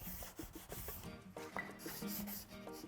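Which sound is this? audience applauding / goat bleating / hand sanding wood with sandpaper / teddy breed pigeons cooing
hand sanding wood with sandpaper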